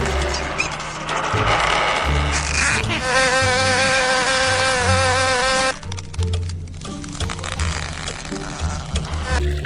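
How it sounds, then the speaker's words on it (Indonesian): A fly buzzes steadily amid cluttered background sounds, with music-like tones and rustling throughout. "Wow, ada seekor lalat."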